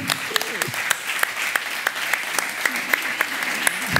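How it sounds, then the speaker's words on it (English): An audience applauds a talk show guest, a steady wash of many hands clapping with sharp individual claps standing out, filling the whole stretch at moderate loudness. "first I want to give you a round of applause"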